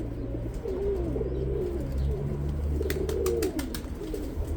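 Young light-coloured pigeons coo repeatedly near their nest, soft rolling warbles rising and falling in a steady sequence, close by, with a faint background hum and a few brief higher chirps.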